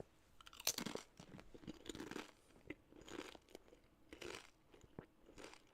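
Someone munching crunchy potato chips close to a microphone, with repeated crisp bites and chewing crunches at an uneven rhythm, faint and alone.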